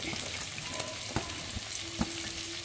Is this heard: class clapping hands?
no